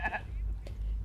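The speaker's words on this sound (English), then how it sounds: "I heard a goat." A goat in a video game gives a short, faint bleat, with a second brief call shortly after, against a low background hum.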